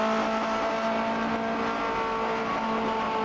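A 1950s Ferrari Formula 1 car races in the sim game rFactor 2 at the 1967 Sachsenring, its engine a continuous, loud, buzzing high-pitched drone that stays steady through the whole stretch, with no voices.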